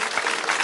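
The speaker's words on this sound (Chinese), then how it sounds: "哦，掌声！" Audience applause at a Lunar New Year stand-up comedy show, a dense, steady wash of clapping that stays loud and even for under a second.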